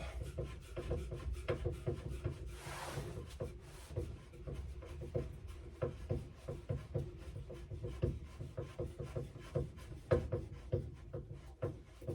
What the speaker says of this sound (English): if we got a Robertson screwdriver, you can get the horn off